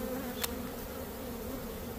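Bees hum in a steady, close insect drone over a rescued collapsed honeycomb, with one brief click partway through and no voices.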